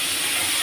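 Spring onions sizzle with fish in hot oil, a loud, steady broadband hiss heard close up for under a second.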